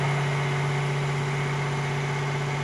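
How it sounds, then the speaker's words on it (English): A Mercedes-AMG ONE's combustion engine running steadily at elevated revs, a loud continuous hum with a strong low drone and no other sounds. "you cannot hear a whole lot of what we are saying because the engine is running at fairly high RPM"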